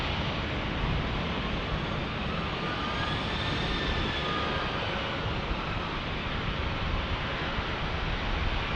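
A United Airlines Boeing 737 MAX jet takes off at San Diego airport, its engines a loud, sustained broadband roar that holds steady throughout with a faint shifting whine, no voices over it.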